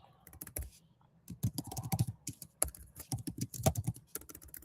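Computer keyboard keys clacking in fast, irregular bursts with short pauses, close and fairly quiet, no voices over them.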